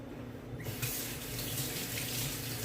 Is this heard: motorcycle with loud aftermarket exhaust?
no